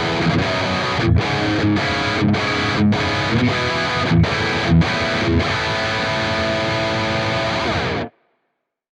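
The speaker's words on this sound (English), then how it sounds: "Next, we have our distorted sound on scene C." Heavily distorted electric guitar tone from a CorOS 3.0.0 preset, hammering palm-muted chords in short bursts with brief gaps, then a long ringing chord that cuts off abruptly.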